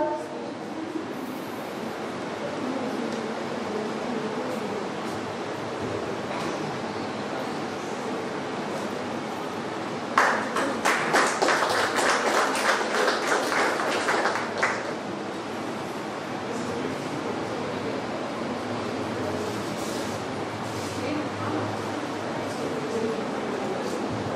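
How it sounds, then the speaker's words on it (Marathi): Applause for a student breaks out at a felicitation program at Students Tutorial in Chiplun, a burst of dense clapping lasting several seconds mid-clip above a steady background of crowd murmur. "त्यासाठी एक जोरदार टाळ्या होऊन जाऊ दे प्रज्ञेशसाठी."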